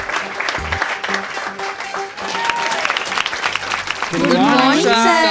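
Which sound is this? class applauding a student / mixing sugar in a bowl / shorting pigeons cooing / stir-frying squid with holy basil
class applauding a student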